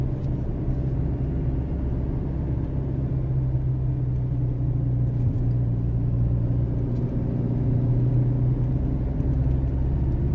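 A Chevrolet ZR2 truck with a Duramax 2.8 diesel drives while towing a trailer, giving a steady low engine drone and road rumble from inside the cab, even and unbroken throughout.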